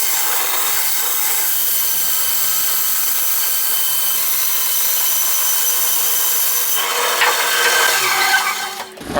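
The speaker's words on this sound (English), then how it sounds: "I'm going to cut the side pieces on the bandsaw" A bandsaw rips through wooden side pieces for a prop hammer build, a steady hissing, rasping cut that runs nearly nine seconds at even loudness, with a brief rise and change in tone near the end as the blade exits.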